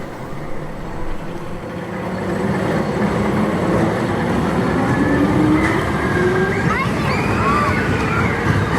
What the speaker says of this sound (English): And here is the Berserker in action.